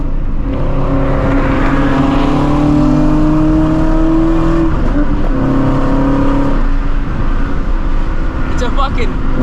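A Porsche GT3 accelerates through traffic, a loud, sustained engine drone that rises in pitch, rolls through gear changes and keeps pulling, heard from inside a moving car with road noise underneath.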